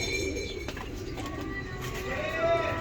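Pigeons coo in low, soft, continuous murmurs close by, with a faint voice and background rustle.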